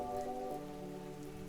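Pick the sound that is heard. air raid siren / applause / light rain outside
light rain outside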